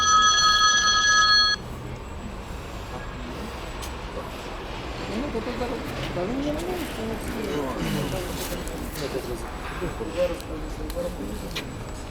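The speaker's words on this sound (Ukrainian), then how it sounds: "Адвокат дзвонить зараз." An incoming call rings on a telephone: a short burst of bright electronic tones at the start, then it stops, leaving low street and traffic ambience with faint background voices.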